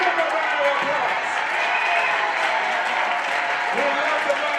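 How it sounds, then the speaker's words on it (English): A crowd at a congressman's town hall meeting keeps up a dense round of applause for several seconds, with voices audible underneath. "Give him a round of applause."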